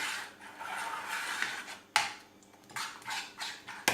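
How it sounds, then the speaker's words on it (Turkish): A spoon stirs liquids in a bowl while mixing cold porcelain dough, giving soft scraping and clinking strokes in an irregular rhythm, close and fairly quiet, with a few sharper knocks against the dish. "Önce sıvıları karıştırıyoruz."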